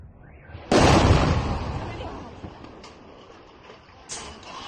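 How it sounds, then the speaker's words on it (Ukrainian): A loud distant explosion booms and rumbles away during a drone attack on a Russian city, followed a few seconds later by a second, fainter blast. "Слушайте, что-то разбомбили. Взорвали заправку, наверное."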